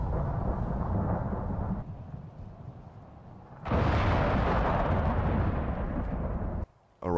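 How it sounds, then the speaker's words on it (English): A heavy thunderstorm rages in the Icarus survival game, with loud rumbling thunder rolling continuously and a fresh powerful crack swelling midway before cutting off. "I think we got a huge storm now."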